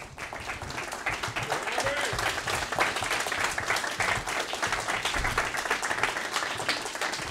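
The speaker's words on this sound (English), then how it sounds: "And with that, I would like to introduce our candidates. And you can clap, please." An audience at a 2022 televised congressional debate for New York's 3rd District applauds the candidates as they are introduced, with sustained dense clapping close by and a voice talking over it.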